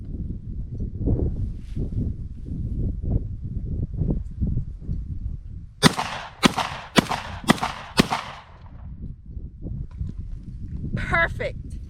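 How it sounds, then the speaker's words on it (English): A 12 gauge shotgun fires five sharp, loud blasts in quick succession outdoors, while people talk before and after the shots. "Just shooting for the fun of it."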